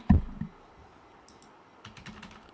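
Typing on a computer keyboard while filling in an online form: a sharp thump at the start, then a few faint scattered key clicks in a quiet room.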